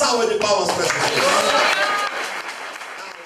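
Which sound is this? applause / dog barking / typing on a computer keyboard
applause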